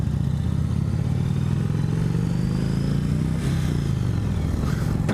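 A 2017 Indian Chief Vintage motorcycle engine rumbles steadily with a deep, throbbing low tone and some mechanical clatter, running continuously close by.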